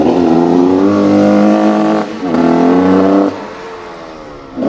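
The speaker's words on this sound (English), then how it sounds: "There is a guy over there on a crosser, which is probably what you might be able to hear through the mic." A motocross bike rides nearby, its engine droning loudly with rising and falling revs in two long pulls before easing off.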